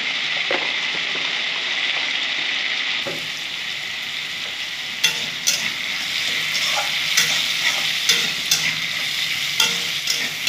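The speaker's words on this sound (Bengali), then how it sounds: "একটু ভাজা ভাজা করে নেবো" Loud, continuous sizzling of dhekhi saag greens frying in a pan with salt and turmeric, with intermittent scraping and clinks of a spatula stirring them.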